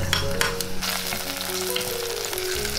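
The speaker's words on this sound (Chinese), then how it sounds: "把配料放进来炒香。" Aromatics stir-frying in a little oil in a clay pot while preparing Cantonese braised pork ribs with fermented red bean curd, a steady close sizzle and crackle with soft stirring scrapes throughout.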